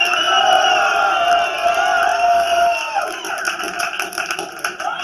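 Comedy club audience roaring and cheering at a stand-up show, a loud sustained crowd yell that gradually breaks into scattered applause and whoops.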